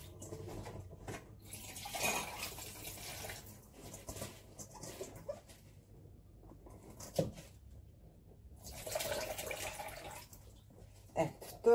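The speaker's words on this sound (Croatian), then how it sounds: "volim salatu ovu da isperem i nekako je onako sočnija kada je posle napravi" Lettuce for a salad is rinsed under a running tap, giving soft, intermittent splashing bursts of water that swell and fade, fairly quiet and close.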